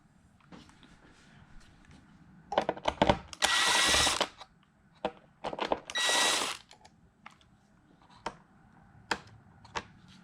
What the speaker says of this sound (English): remove every Torx screw attached to the logic board.